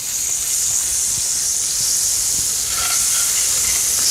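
A big slab of butter sizzles in a skillet that is too hot, making a loud, hissing sizzle that holds steady and close for its whole short length, with no talking.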